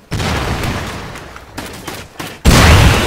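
Gunfire in the survival video game Rust, loud bursts of rapid shots with a heavy blast near the end, dense and close, without voices.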